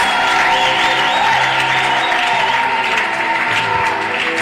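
A church congregation applauds and cheers during a Sunday service. Dense, steady clapping mixes with crowd voices and a few whoops throughout.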